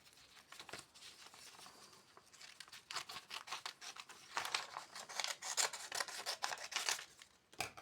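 Scissors snip paper along a template in quick, close, crisp clicks, sparse at first then in denser rhythmic runs of cuts, with no talk.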